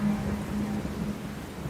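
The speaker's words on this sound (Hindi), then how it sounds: "बारिशें आ गई" Steady rain falls with a low, rolling rumble of thunder beneath it, a soft continuous hiss close by with no voices.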